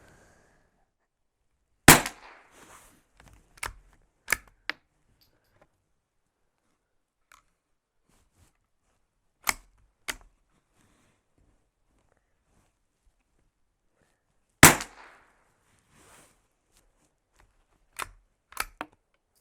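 Around eight sharp, short cracks from a Savage Rascal .22lr rifle come in small spaced clusters across near-silence, each with a brief tail.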